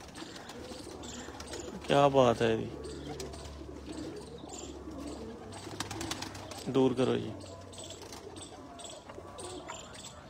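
A pigeon coos close by in a Faisalabad loft, soft low calls under ongoing talk, broken by two louder bursts of voices.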